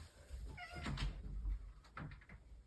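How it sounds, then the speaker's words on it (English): A domestic cat meows indoors, close and fairly faint, with a few drawn-out, plaintive calls and softer mews in between, heard on its own. "I'm going to let my cat out real quick. She's being a pest."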